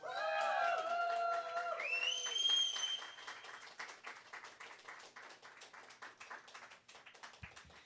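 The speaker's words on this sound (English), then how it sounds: "Thank you, everyone, for the great applause" A live-concert audience at a small venue applauds and cheers as a song's final sustained notes ring out, then the scattered clapping carries on steadily and fairly faint to the end.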